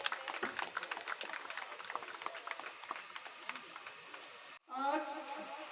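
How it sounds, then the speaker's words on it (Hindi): Audience at a political gathering applauding, a dense crackle of many hands clapping steadily for several seconds before it cuts off and someone speaks over a loudspeaker. "जोरदार तालियां"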